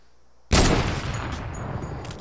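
Gunfire from an AK rifle in the video game Fortnite: one loud, close, sudden blast followed by a dense, sustained roar of shots that tapers slightly over two seconds, with no voices.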